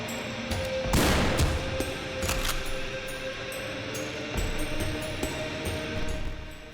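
Gunfire in the game The Hex: a sharp burst of shots near the start, then scattered cracks and rapid bursts under a steady low hum, fairly close and moderately loud.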